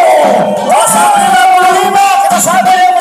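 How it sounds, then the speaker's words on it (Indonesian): A loud, dense crowd at a Tatung parade performance during Cap Go Meh in Singkawang cheers and shouts continuously, with whoops and sustained voices filling the scene. "Kita sambut tepuk tangan"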